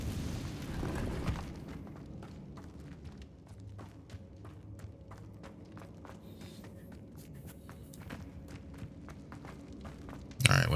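Footsteps patter quietly across stone in Hogwarts Legacy before the Confringo fire spell erupts in a sudden, loud blast right at the end.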